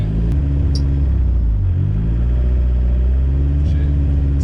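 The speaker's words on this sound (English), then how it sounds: "this thing's idling high again." A turbocharged Dodge Caravan sits at a drag strip with its engine idling high, a loud, steady low rumble that wavers slightly in pitch throughout, heard close and alone without talk.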